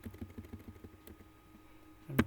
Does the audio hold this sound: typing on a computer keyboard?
yes